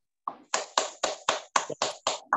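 A single person clapping hands about nine times at a steady, even rhythm, each clap crisp and close, with silence between strokes.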